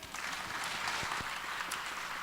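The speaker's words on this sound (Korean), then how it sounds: "박수 한번 하세요" A church congregation at a revival meeting claps together in a short, steady burst of applause, close and continuous, with no one speaking over it.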